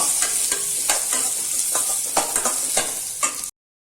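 Capsicum and onion with ginger garlic frying in a pan, a loud steady sizzle with repeated brisk stirring scrapes at a quick irregular rhythm, close up, ending abruptly, no talking.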